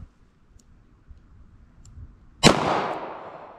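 After a quiet stretch with faint clicks, a .38 Special fires a single sharp, loud shot at a target 50 yards out, its crack trailing into a decaying outdoor echo.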